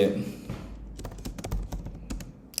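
Rapid clicks of fingers typing on a computer keyboard while drafting a job proposal, with irregular taps close by and a voice talking faintly underneath.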